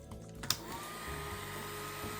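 A small hairdryer fan runs steadily with a whirring hum and rising whine after a brief click as it starts, close and continuous throughout.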